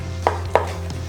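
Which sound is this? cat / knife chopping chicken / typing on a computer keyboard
knife chopping chicken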